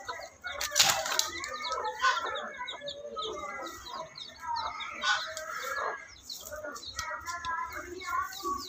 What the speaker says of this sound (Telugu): ఇప్పుడు ఈ కోళ్ళని అయితే ఇందులో వేసేసుకుంటున్నాం